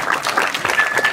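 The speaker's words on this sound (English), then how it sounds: "Let's give our guests a round of applause." Audience applause for guests at a SXSW bloggers lounge panel, a dense burst of many hands clapping at close range, loud and continuous with a faint thin tone running through it.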